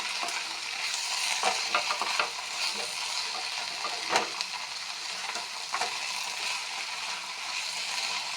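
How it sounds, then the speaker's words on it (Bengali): Shrimp frying in a pan with stalks of drumstick-plant flesh and green chili, a steady close sizzle broken by soft scraping and clatter as a spatula stirs, with no voices. "এখন দিয়ে দিচ্ছি চিংড়ি। এখন ভালোভাবে নেড়ে নিচ্ছি।"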